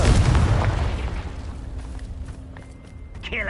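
A Confringo blasting spell explodes in Hogwarts Legacy with a loud, booming burst that rumbles and slowly fades across several seconds, and a faint whoosh rises at the very end.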